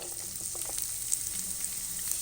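Chopped onions sizzle in leftover ghee in a pan after okra has been fried for bhindi gosht, a steady soft crackle and hiss at moderate volume with faint stirring clicks and no voices.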